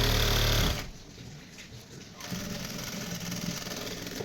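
A sewing machine runs steadily while stitching elastic onto a pant waistband, starting loud then pausing briefly before resuming its even, close whirring drone.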